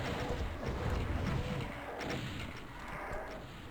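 Rocket explosions in Doom II land as a quick run of loud, dull bursts close by. The blasts come in the first two seconds, and a murky rumble lingers afterward.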